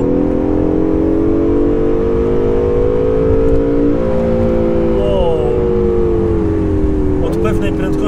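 A Honda NSX sports car with a 3.5-litre V6 engine accelerates hard, its loud steady engine note climbing in pitch from inside the cabin, with a brief gear change near the end.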